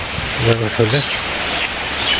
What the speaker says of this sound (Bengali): এই যে বৃষ্টি নামছে